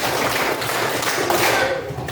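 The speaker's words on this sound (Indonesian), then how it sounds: "Coba tepuk 5." Classroom students clap a five-clap pattern together, a dense run of hand claps filling the room at steady loudness.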